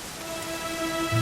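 Rain falls steadily in Dragon Quest XI as a dense, even wash of patter that swells slightly toward the end, with a faint low tonal background.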